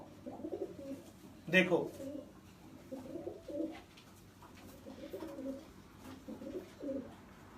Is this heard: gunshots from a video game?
no